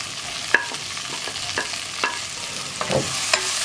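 Ginger, garlic, green chilli and onion frying in oil, stirred with a utensil: steady close sizzle broken by several sharp scraping knocks against the pan, no voices.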